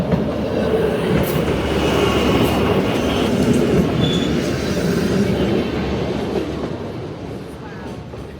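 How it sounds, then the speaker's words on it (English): A train rolls past in Chamonix town, a loud, steady rumble of wheels and rail noise close by that holds for several seconds and then eases slightly at the end, with no talking over it. "here comes the train"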